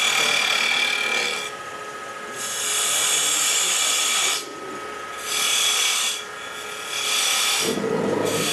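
A square cutter carves a tenon on a wooden lidded box, giving a harsh, raspy scraping. It comes in several sustained bursts separated by brief pauses, loud and close, with no talking.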